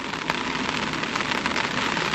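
Rain drums steadily and densely on the body of a black 2026 Mitsubishi Montero Sport GLS, a close, continuous patter with no pauses and no voices.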